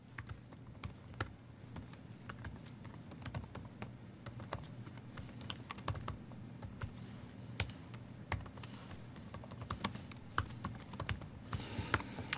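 Steady typing on a computer keyboard as a small Linux shell script is written, with rapid, irregular key clicks and occasional louder strokes over a faint background hum, close and fairly quiet.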